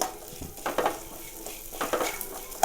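Spices and curry leaves frying in a pan for Mangalorean chicken sukka, with soft sizzling and several scraping stirs of a utensil against the pan, close and without talk.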